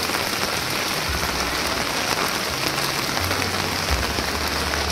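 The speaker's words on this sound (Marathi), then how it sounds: "पाऊस कंटिन्यू चालूच आहे." Steady rain falls heavily on surfaces during the Dehu to Pandharpur palkhi pilgrimage of Sant Tukaram Maharaj, an even, unbroken hiss of drops with no voices.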